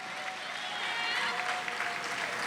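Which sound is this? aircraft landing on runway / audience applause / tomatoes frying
audience applause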